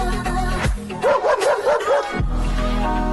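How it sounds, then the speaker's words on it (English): A certified security dog barks about five times in a quick, close run, loud over a steady background hum. "Good dog, Foxy."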